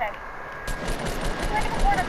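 Rapid video-game gunfire bursts out after a brief quiet start, a quick train of sharp shots in close succession continuing to the end, with players talking over it.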